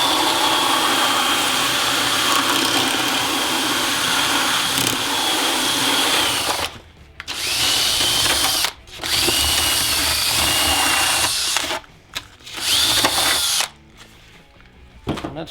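A power drill whines loudly and steadily, close up, while fitting threaded rods to a boar mount, stopping briefly a few times before starting again in several short bursts.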